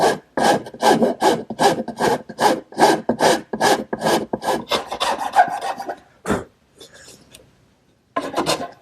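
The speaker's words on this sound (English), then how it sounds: "So I'm going to even those out using my rasp." A rasp files wood on a Shaker washstand, evening the dovetailed side with the front: a run of rapid, regular rasping strokes close up, a short pause, then a few more strokes.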